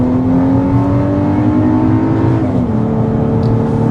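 A 2024 Volkswagen Atlas Cross Sport with a torquey turbo engine pulls uphill under throttle, its engine note rising steadily then shifting pitch as it revs, heard from inside the cabin with no talk.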